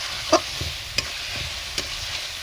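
Whole dried chilies are stirred and fried in hot oil in a rural Bengali kitchen, a low steady sizzle punctuated by a few sharp utensil scrapes and taps at irregular intervals.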